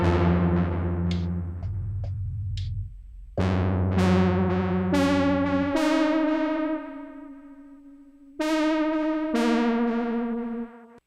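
A real analog synthesizer plays bright 80s-style synth notes, sustained tones that step through changing pitches with sharp attacks and slow fades, loud and alone.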